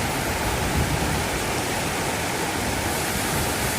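Constant heavy rush of water pouring over a check dam on the Thamirabarani river, a dense, even roar with no breaks and no voices.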